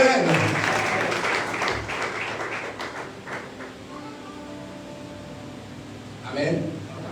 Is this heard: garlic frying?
no